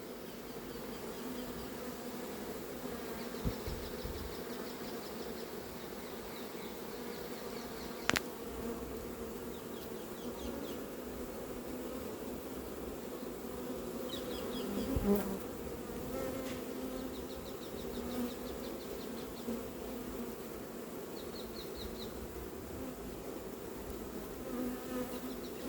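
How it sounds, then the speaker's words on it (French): Steady, dense buzzing of a honeybee swarm (Apis mellifera) being gathered and housed in a hive, continuous and close throughout, with a few brief knocks and clicks from hive handling. "Je vais regrouper un peu ces abeilles et je vais mettre un couvre-cadre"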